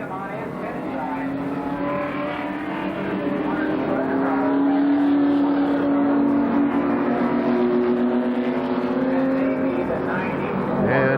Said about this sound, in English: he speeds up to get around everybody and get into the pits as quick as possible